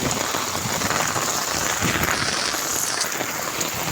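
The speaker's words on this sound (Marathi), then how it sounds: "मानखुरला आज मस्त पाऊस पडत आहे बा खूप पाऊस आहे" Heavy monsoon rain pours down in Mankhurd, a dense, loud, continuous hiss of drops striking surfaces with a faint windy rush behind it and nobody speaking.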